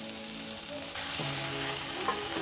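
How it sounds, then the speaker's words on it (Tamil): Mint leaves sizzle steadily in hot oil with sautéed tomatoes, a constant close frying hiss with faint tonal hum in the background. "இது இப்போ நல்லா எண்ணெயில் வதக்கிடலாம்"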